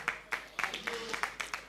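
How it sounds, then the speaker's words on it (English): A few people at a golf club annual general meeting clap in a sparse, uneven rhythm of distinct claps, fairly close and moderately quiet. "Round of applause for him,"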